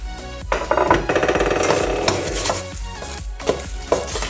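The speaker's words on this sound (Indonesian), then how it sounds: "kita jangan aduk terlalu lama" Pempek dough with salt just added is stirred in a bowl: busy, close scraping and rattling strokes with brief pauses, ending in a few sharp knocks.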